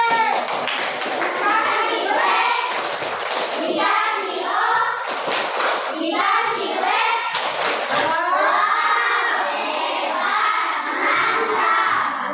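A group of children in a classroom shout and chant together in a loud, echoing room, with bursts of clapping mixed into the voices.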